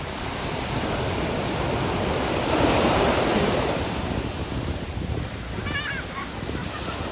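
Sea waves wash onto a beach in a steady broadband roar, swelling to a louder surge in the middle before easing back, heard close and continuous with no talk.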